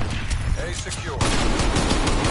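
Rapid gunfire in a Call of Duty Cold War multiplayer match, loud bursts of shots that intensify midway into a continuous barrage, with no talking over it.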